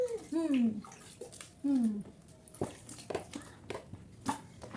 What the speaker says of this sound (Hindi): पहले मैं पानी टब में गिरा लेती हूँ ताकि से एकदम से सर्दी ना हो।